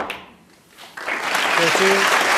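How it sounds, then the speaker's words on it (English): At the World Snooker Championship, Hawkins versus Robertson, the audience breaks into applause at the Crucible after a decisive pot. Quiet room tone gives way to a sudden swell of steady clapping, with a brief voice under it. "The applause saying that Barry Hawkins now needs a snooker"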